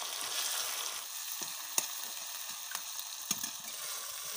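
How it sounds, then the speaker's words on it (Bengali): Cumin, green chilli and coriander frying in hot oil for a village-style silver carp fish curry, a soft continuous sizzle with a few sharp pops and crackles scattered throughout. "এই মশলাগুলো ভাজা হয়েছে"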